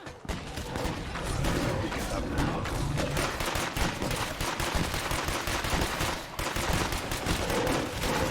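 Gunfire in State of Decay 2 during open combat with zombies: dense, rapid shots and bursts that run almost without pause, loud and close, with a brief drop around the six-second mark before the firing resumes.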